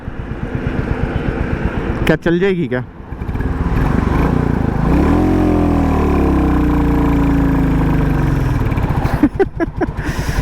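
A Royal Enfield Bullet 350 motorcycle engine chugs steadily at low revs in fifth gear, pulling along with a deep thumping rumble, while someone talks briefly over it.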